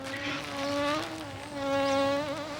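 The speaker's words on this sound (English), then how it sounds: "What's that noise? That's only a bee." A bee buzzes close by with a wavering, tonal drone that swells and dips in pitch and loudness as it moves around.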